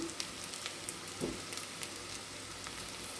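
Onions frying lightly in oil for mushroom curry, a steady, soft hiss and sizzle with scattered faint crackles throughout and no voices.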